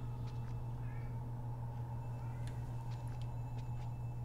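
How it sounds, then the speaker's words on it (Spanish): A cat meows faintly in the room, a few short high calls that sit low in the mix over a steady hum of background game audio. "Joder, con el gato, que noche me ha dado."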